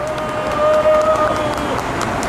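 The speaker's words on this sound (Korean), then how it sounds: "반짝반짝 추운님, 큰 박수 부탁드리겠습니다" Crowd applause at a political rally in South Korea, a dense, continuous wash of clapping and crowd noise that stays loud and close across the whole stretch, with no voice standing out above it.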